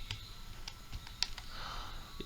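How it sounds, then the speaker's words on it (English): Several quiet clicks come from a computer keyboard as the Windows and R keys are pressed, a few faint taps spaced apart in a quiet room. "you need to press Windows and R on your keyboard"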